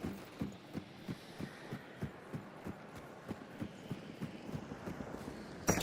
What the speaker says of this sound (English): I hear footsteps already